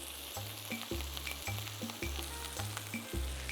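Red chili and basil sauté in a hot pan, a constant crackling sizzle punctuated by regular scraping stirs of a utensil roughly every half second, close and unaccompanied by talk.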